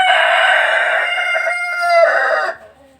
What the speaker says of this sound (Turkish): Horoz çok olunca bağırış da çok oluyor.